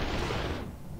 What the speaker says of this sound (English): you have to, for example, shoot these peoples, because otherwise they will shoot you